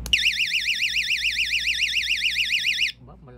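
A loud wireless vibration anti-theft alarm for a motorcycle wails in a fast rising-and-falling warble for about three seconds, then cuts off abruptly, leaving faint background noise.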